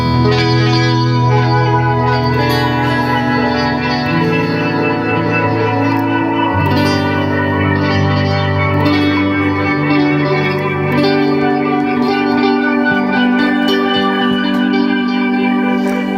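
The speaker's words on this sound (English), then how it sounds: "Now this has got a very lovely delay sound which sort of creates some rather lovely sparkly shimmery stuff." A TC Electronic Flashback delay pedal on its crystal setting turns guitar notes into a dense, sparkling shimmer of layered repeats. The sustained tones drift and change pitch for sixteen seconds, loud and continuous with no gaps between them.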